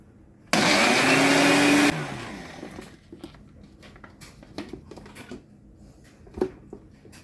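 A blender whirs loudly for about a second and a half, pureeing peppers and oregano into a paste, then stops, leaving quiet clinks and handling noises.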